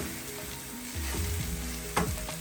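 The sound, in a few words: chillies and spices frying in oil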